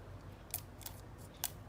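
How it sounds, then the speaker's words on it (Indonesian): Scissors make faint snips during a paper craft project with glue and chopsticks: three quiet, crisp cuts spaced apart over a low, steady background hiss. "Kita gunting."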